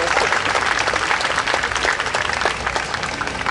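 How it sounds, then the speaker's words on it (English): Dense, steady applause from a large outdoor crowd at the 2016 San Diego Pride rally, loud and continuous throughout with no clear speech over it. "Big round of applause for Reverend Harris's and very, very true words"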